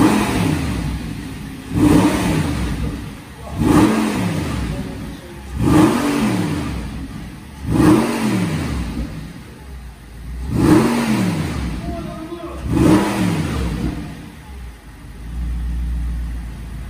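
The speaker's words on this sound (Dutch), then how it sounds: "John gaat even de standaard R8 laten horen." Audi R8 V10 on its stock exhaust, revved six times in a row at a standstill, each blip rising sharply and falling away in a regular rhythm, loud and close with idle between.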